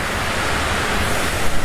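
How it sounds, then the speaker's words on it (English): A dense, steady roar of rushing water, loud and close, with no voices. "You can't hear me with all the falls going on."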